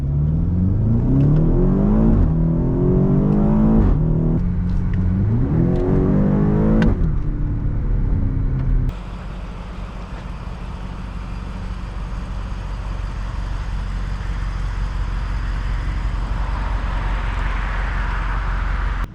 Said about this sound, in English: Today we're driving a 2018 BMW X5M.